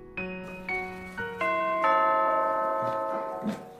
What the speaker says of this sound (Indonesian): tiba-tiba bel pun berbunyi